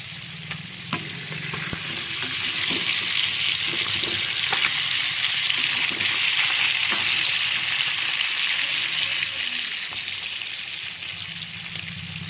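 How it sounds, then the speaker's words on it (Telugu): Chicken pieces frying in oil in a pan, a steady loud sizzle across the whole stretch, broken by occasional clicks and stirring knocks, swelling slightly in the middle before easing off. "చికెన్ ఫ్రై అవుతుందండి"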